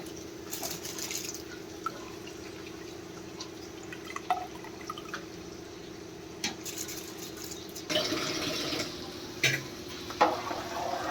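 Three glasses of soaked rice go into a pot of water for chicken pulao, giving soft drips, small splashes and light clinks, with a busier splash of pouring and stirring in the last few seconds.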